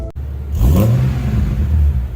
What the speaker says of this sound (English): I would recommend replacing the secondary cats with Vibrant 1792 resonators to help keep the exhaust note clean.